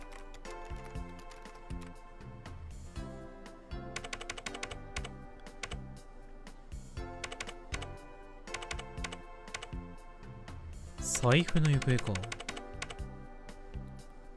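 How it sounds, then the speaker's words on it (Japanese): Fast keyboard typing in a video game, with rapid clattering keystrokes coming in steady bursts over a soft music bed and a brief louder chime near the end, while a voice speaks briefly. "タイピング遅いな。"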